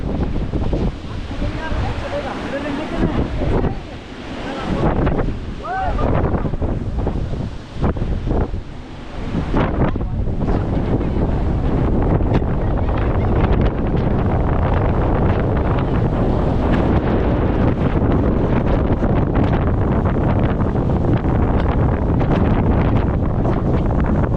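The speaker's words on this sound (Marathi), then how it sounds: "ते तलावाचं जे पाणी वाहत आहे ते सगळं इकडे पडतंय आहे सगळ्यात मोठा धबधबा तोच असेल" Large waterfall fed by Charlotte Lake at Matheran in fog, a dense, loud, continuous roar of falling water buffeted by wind noise, with voices briefly heard early on.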